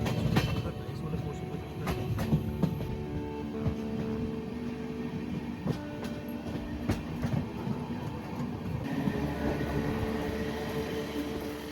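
A train in Assam rolls steadily along the rails with a constant rumble, occasional clicks and clatter from the wheels, heard from inside.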